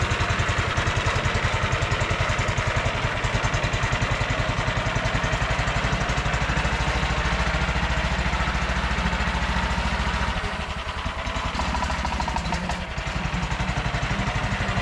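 A T-18 tractor engine runs steadily at close range, a loud continuous low chugging with a slight dip near the end, with no talking.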